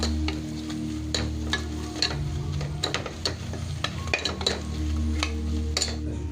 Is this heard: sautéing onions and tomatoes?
yes